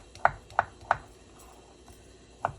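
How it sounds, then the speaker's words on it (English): Knife chopping food on a board for a ground beef taco salad: three quick even chops, a pause, then two more, close and crisp against a quiet kitchen background. "Chop up this."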